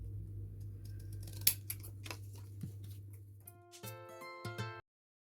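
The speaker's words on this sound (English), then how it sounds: "I'm just using an old pair of hairdressing scissors" Old hairdressing scissors snip out paper stamps in a series of close, crisp cuts and rustles, with a brief clink, over a steady low background hum.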